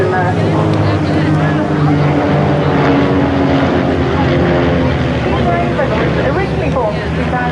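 Display team aircraft flying in perfect formation at the Teignmouth Airshow, a loud continuous propeller drone and engine roar filling the whole stretch, with a commentator talking over it.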